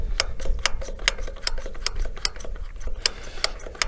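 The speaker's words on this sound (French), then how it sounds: "Après, on dévisse les vis de purge des filtres et on pompe." A hand primer pump on a Zetor tractor pushes diesel through the fuel filters to bleed out air, making sharp, evenly spaced clicks about every half second over a low background hum.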